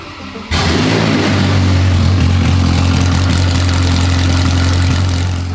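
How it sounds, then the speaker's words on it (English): A Ferrari engine with no exhaust fitted fires up after a brief quiet moment and settles into a loud, raw, steady idle close by that drones on unbroken. "On the good side, the Ferrari starts up and runs first time. The thing is, it is so loud with no exhaust."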